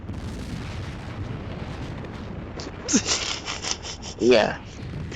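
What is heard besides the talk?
flare spell explosion in video game Final Fantasy XIV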